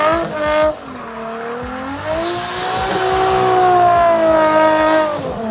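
A Nissan Cefiro A31 with an RB20DET turbocharged straight-six revs loudly and close by, its pitch climbing, dipping and rising again in a smooth sustained wail.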